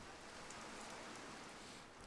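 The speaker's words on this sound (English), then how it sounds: "Rain still coming down now." Steady rain falling during a football match, a dense, even hiss that is soft and continuous throughout, with no talk.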